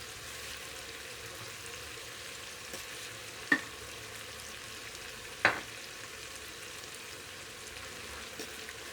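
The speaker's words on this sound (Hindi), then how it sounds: "टमाटर को अब भूनेंगे हम अच्छी तरह। अब इसमें डालेंगे हरी मिर्च वगैरह।" Tomatoes and green chillies frying in a pan over a village-style fire, a steady low sizzle with two sharp clicks or pops standing out partway through; no talking.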